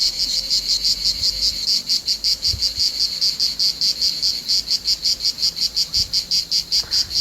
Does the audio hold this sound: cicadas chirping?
yes